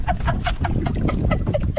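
A hen clucks in quick, repeated bursts, close and fairly loud, over a low background rumble.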